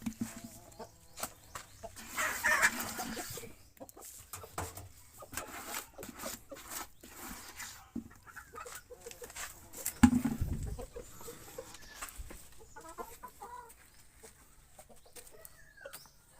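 Layer hens at feeding time on a farm give soft, scattered clucks and occasional louder squawks, faint and fairly distant over a quiet background.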